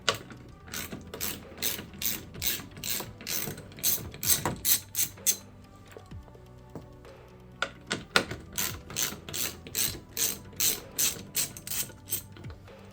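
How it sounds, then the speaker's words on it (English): A hand ratchet loosens two 10mm bolts holding a rear bumper light on a 2022+ Toyota Corolla Cross, making crisp, rapid clicking strokes in two bursts split by a short pause, close and loud. "we need to remove these two 10mm bolts and then pull this light out"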